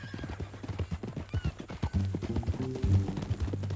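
Horse hooves and neighing in Red Dead Redemption 2, a string of clip-clopping hoofbeats up close followed by a loud, drawn-out whinny, with the hoof rhythm continuing beneath it.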